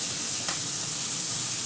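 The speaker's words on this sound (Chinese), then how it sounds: "继续翻炒。" Tomatoes being stir-fried in a pan give a steady, close broadband sizzle, with a soft scrape of the spatula partway through.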